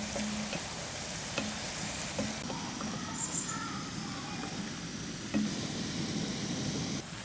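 Pappadam murukku fries in hot oil with a steady, close, continuous sizzle and crackle.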